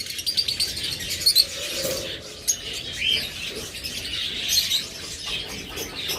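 Pet parrotlets (Forpus) chirping in a cage, with a pair of birds giving rapid, bright, close tweets in irregular bursts over a soft background of indistinct talk.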